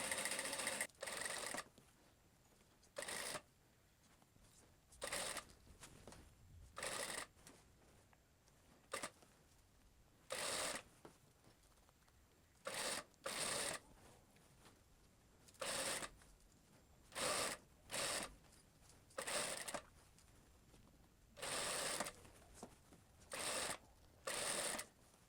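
Domestic sewing machine stitching a French seam in fabric for a skirt, with short bursts of rapid stitching separated by quiet pauses, close and moderately loud.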